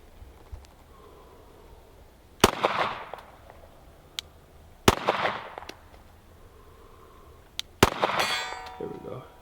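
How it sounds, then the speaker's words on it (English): A Glock pistol fires at a steel target 80 yards off, giving three sharp shots a couple of seconds apart, each followed by a ringing metallic clang and a short echo. "now we're gonna take the old Glock and shoot it for the very first time at 80 yards"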